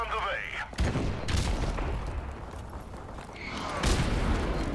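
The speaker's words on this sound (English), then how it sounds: "Friendly airstrike" Heavy booming blasts from a friendly airstrike in Call of Duty: Modern Warfare Remastered multiplayer, dense rumbling explosions layered with gunfire and game effects throughout, with a burst near the end and talk over the top.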